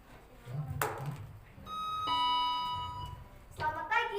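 A bell rings out at the start of a primary school storytelling contest, a sustained ringing chime with a long tone that fades, surrounded by brief background voices and room noise.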